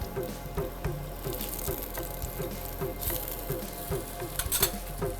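Food frying in a pan gives off a soft, steady sizzle with scattered crackles and pops, joined by light scraping and clinks as it is flipped over to cook the other side.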